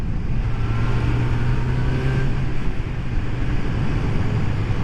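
Rebuilt Kawasaki GPZ600R on a test ride, its engine pulling cleanly under load with a steady, loud drone and wind rush, close up, with no voices.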